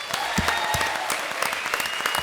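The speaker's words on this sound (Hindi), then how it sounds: "जी के लिए एक बार जोरदार तालियां" Loud audience applause on a stage comedy show set, a thick clatter of many hands with a few distinct sharp claps standing out near the front.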